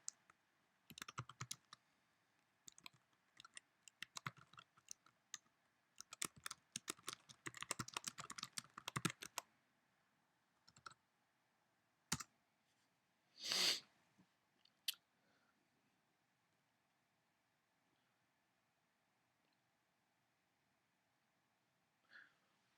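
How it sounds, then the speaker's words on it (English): Someone types a chat message on a computer keyboard, a quiet indoor patter of key clicks in uneven bursts with pauses, ending in a few isolated taps. "I'm going to type a message and we'll send you a message on chat"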